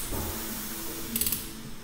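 A torque wrench ratchets as it tightens a connecting rod cap nut on a VAZ 21083 engine, a brief burst of sharp metallic clicks near the end of an otherwise quiet stretch of workshop hum.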